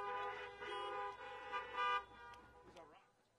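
Car horns honk repeatedly at an outdoor campaign rally in Arizona, several overlapping toots layered over a spoken voice and fading out near the end.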